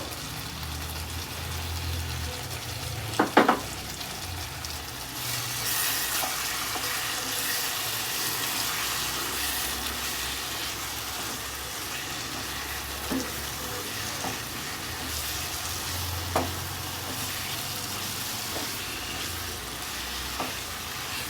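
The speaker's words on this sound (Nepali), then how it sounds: "म 5 मिनट जति भुट्छु" Chicken curry with ground garam masala frying in a pan: a continuous, even sizzling hiss close by, with a few sharp clicks of a spoon against the pan.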